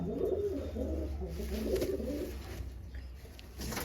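Madras pigeons cooing in low, rolling repeated phrases that run almost the whole time, near and steady with no talk.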